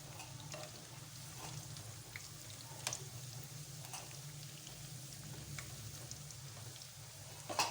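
Besan pakoras for kadhi fry in hot oil in a pan, giving a soft, steady sizzle with scattered pops and crackles, quiet and close, with no talking.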